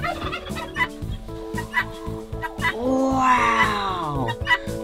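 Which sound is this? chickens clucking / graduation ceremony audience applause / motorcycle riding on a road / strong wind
chickens clucking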